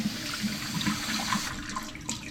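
Quinoa rinsed under a running kitchen tap, a continuous splashing stream of water with gurgling as the grains are swirled, close and steady with no talking.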